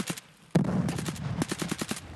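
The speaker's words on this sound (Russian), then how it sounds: "А ты сейчас слышал стрельбу?" Rapid bursts of Escape from Tarkov gunfire, sharp repeated shots, some spaced and some in quick volleys, loud and close with no talking.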